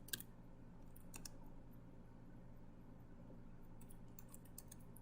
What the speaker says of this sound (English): I'll just go to Google and type